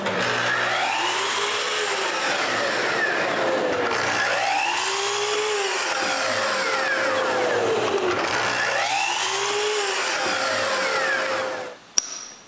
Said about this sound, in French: Quand j'en ai assez, là, je les coupe en plus petites longueurs.